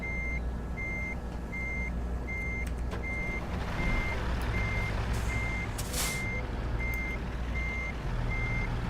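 An American Truck Simulator truck backs up, its reversing alarm beeping at a steady, even rhythm over a constant low engine rumble, with a brief hiss of air partway through.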